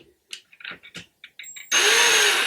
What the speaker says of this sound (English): I can drill in there and go a little further